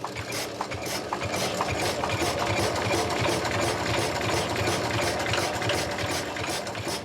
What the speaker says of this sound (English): This is what runs the milking machine, is it? Yes, it is, Peter. It's another engine.